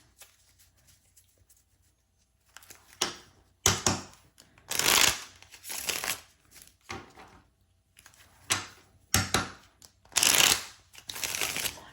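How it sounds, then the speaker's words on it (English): A deck of tarot cards is shuffled by hand in a series of close, crisp riffling bursts separated by short pauses, with no talking. "Let me shuffle them real quick."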